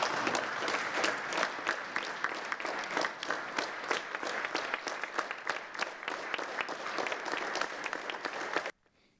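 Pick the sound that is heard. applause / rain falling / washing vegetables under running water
applause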